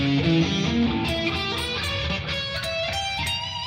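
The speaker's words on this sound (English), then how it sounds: "there's a diminished scale that's only 4 notes, and it sounds like this, very Halloween-y." Guitar runs through a quick diminished scale, notes climbing in even steps with a dark, eerie tone, played close and clearly.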